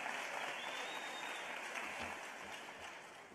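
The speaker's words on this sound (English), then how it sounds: "Let's give him a big round of applause" Steady applause from a seated audience at a school district teacher of the year celebration, even and continuous for a few seconds, moderately distant and soft with no talking.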